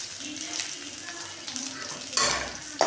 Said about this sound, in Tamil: நல்லா கிளறிக்கிட்டுக்கணும் நல்லா ஆயிலே ஃப்ரை ஆகட்டும்